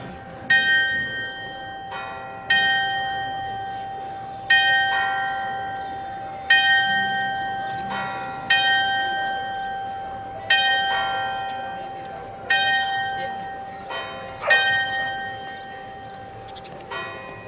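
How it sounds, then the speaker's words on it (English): Church bells ring at 11 a.m. in Willemstad on King's Day, with about eight loud, resonant strikes roughly two seconds apart, each leaving a long, ringing decay. "11 a.m. bells on King's Day"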